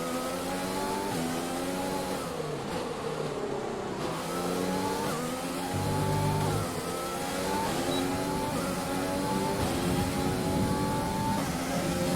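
A Formula 1 car engine in the F1 2020 video game revs and shifts continuously, its pitch rising and dropping through gear changes at a steady, fairly loud level, with no talking.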